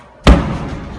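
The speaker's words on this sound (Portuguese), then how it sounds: "Bala ouviu o Bedel Ranulfo fechar o cadeado por fora." A padlock is snapped shut from outside on the door of a small cell beneath a reformatory, one sharp, heavy thud up close that fades into a short ringing decay.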